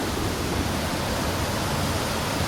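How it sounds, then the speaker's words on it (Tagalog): Powerful flow of spring water at a hot and cold spring resort, a dense, unbroken close roar of rushing current with no pauses. "Kusog pagyapon ang current to."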